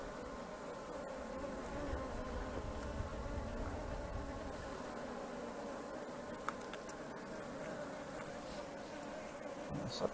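Honey bees swarm around an opened hive during a queen release, giving a continuous dense buzzing drone with faint scattered ticks, steady and close.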